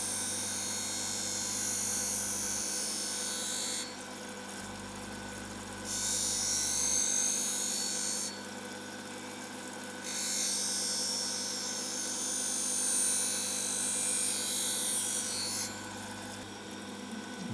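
A manual grinding wheel bevels the back edge of a piece of glass with a constant motor hum, while a bright hissing grind rises and falls in repeated passes.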